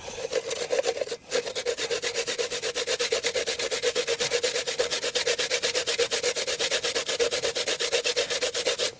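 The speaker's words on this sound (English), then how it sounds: "that's the stage of grating the coconut" Coconut is grated by hand in a steady, rapid back-and-forth rasping that continues without a break apart from one brief pause, close and fairly loud.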